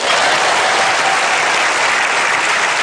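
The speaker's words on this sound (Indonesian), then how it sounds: "tepuk tangan semua ini" Steady, dense audience applause on a live Indonesian television talk show fills the whole stretch, loud and close with no voices over it.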